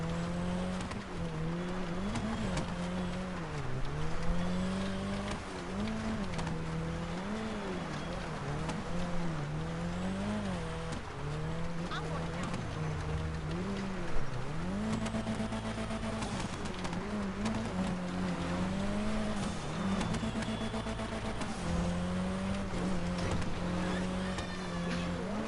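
A car driving through snow in GTA 5, with a steady engine drone that wavers in pitch as it speeds up and eases off, continuous and close throughout.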